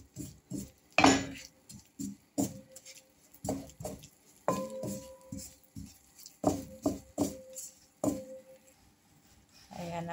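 Flour being stirred into melted butter in a pan for a white béchamel sauce, a spoon scraping and clinking against the pan in a brisk, irregular rhythm, close and quiet, with brief speech in places.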